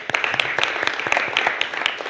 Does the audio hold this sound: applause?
yes